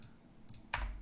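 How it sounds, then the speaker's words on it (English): Mechanical keyboard keystrokes at a desk, a couple of faint clicks followed by one sharper, louder key press, close and isolated against a quiet room. "I really like this mechanical keyboard"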